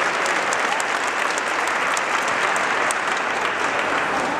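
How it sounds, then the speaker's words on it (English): A crowd gives a full round of steady, dense applause for Jonathan Overby at a Wisconsin state MLK tribute ceremony, even and sustained throughout with no voices over it. "Please join me in a round of applause"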